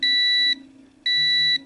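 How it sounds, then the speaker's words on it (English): Two identical high, piercing beeps from the fan-failure alarm buzzer on an SSL Nucleus mixer controller sound about half a second apart, each lasting about half a second over a faint low hum. "there's a little buzzer on this controller"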